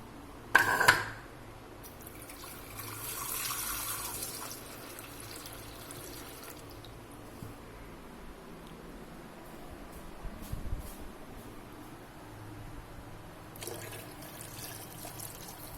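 Tap water runs into a pot while topping up a Kharik Methi Kokum saar, a soft steady flow lasting most of the stretch after a sharp clank at the start, fairly quiet and without talk.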